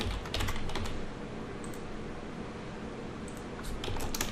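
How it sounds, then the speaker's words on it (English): Someone typing on a computer keyboard while entering spreadsheet data, a close, continuous patter of soft key clicks with a few louder taps at the start and end, no talking. "I'll pause while I finish typing this."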